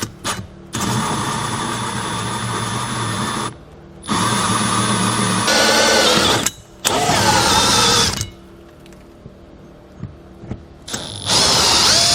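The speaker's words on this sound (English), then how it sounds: "we're going to actually put our drill bit in reverse, because when you're cutting any soft material like plastic, running the blades backwards won't dig in" A power drill runs in reverse to cut plastic for a trailer hitch setup on a 2017 vehicle. Several loud, steady whining runs of a few seconds each are separated by brief stops, with the motor pitch shifting as the bit bites.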